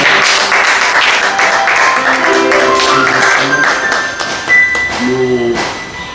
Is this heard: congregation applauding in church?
yes